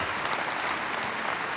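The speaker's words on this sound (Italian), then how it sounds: "Prendo l'applauso." A theatre audience at a Christmas show in the Petruzzelli gives steady, dense applause, a continuous wash of clapping from many hands with no break across the short stretch.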